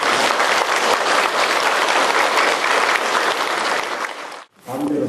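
Sustained audience applause greeting a monk lecturer at a Buddhist lecture hall, dense and steady for several seconds before breaking off, followed by a brief sound after the pause.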